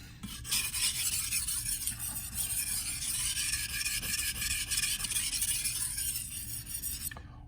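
A knife blade being ground down at the heel during sharpening to fine-tune its profile, a steady continuous abrasive rasp lasting the whole stretch, close and fairly loud, with no talking.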